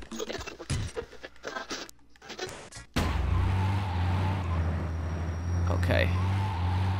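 A car engine drives in the video game GTA Chinatown Wars, a loud steady motor drone that starts abruptly partway through and continues to the end, with scraping and clatter mixed in after earlier choppy game sounds.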